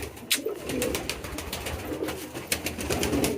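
Pigeons in a pigeon farm coo close by, their soft, repeated calls coming in quick overlapping bursts.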